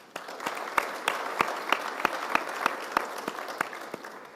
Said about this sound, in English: I think it'd be appropriate if we give a round of applause to everybody who put in that work